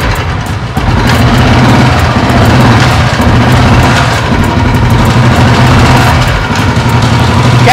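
A motorcycle engine catches after a brief quiet start and settles into a loud, steady idle with an even low throbbing pulse, heard close for several seconds with no talk.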